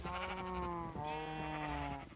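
A Minecraft sheep in a farm pen bleats in two long, wavering calls, loud and close, with no talk over them.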